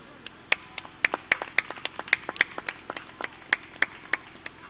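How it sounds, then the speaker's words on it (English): Scattered, fairly faint clapping from a small audience at a Marcus Garvey Day panel, individual hand claps popping irregularly rather than a full ovation. "So put your hands together for our panelists."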